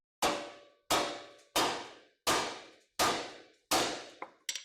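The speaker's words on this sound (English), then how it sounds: "the best method is hitting right there on the side of the knuckle like this" Six sharp metallic hammer blows on the side of a car's steel steering knuckle, evenly spaced about a second apart, each ringing briefly before the next strike, followed by a few quicker clinks.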